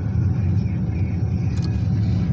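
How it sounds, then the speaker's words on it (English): A dump truck passes by outdoors, a steady low engine rumble and road noise holding loud throughout, with no clear rise or fade. "as a dump truck goes by"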